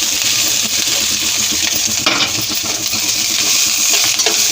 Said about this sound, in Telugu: పొడి చేసి పెట్టుకున్న ఇడ్లీ పొడి మొత్తం ఇందులో వేసేసుకొని కలిపేసుకోవాలి